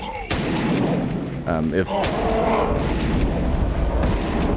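Loud shotgun blasts in the video game Dead Trash, a hobo-with-a-shotgun first-person shooter, with a sharp boom near the start and another burst midway, followed by rattling reload and game noise while a voice briefly speaks.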